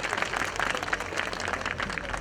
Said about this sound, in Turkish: Ona da bir alkış alalım değil mi?